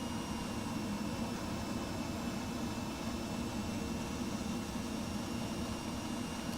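Jet aircraft engine roar in the Microsoft Flight Simulator 2020 game, a loud, continuous broadband rush flying at around 450 knots, steady and unbroken throughout with no talk over it.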